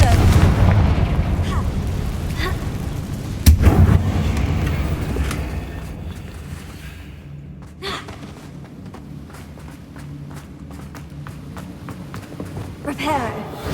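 Confringo fire spells blasting in Hogwarts Legacy, with a few sharp booming impacts scattered over a rumbling game soundscape, one heavy burst standing out early and lighter cracks later, while someone talks throughout.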